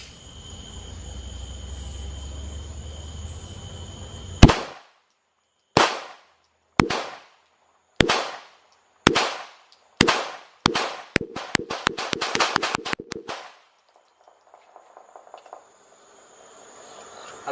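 A Tisas BR9 pistol fires during an endurance test, about a dozen sharp, loud shots that start spaced apart and then come in a quicker burst. Each crack rings out alone in a quiet outdoor setting.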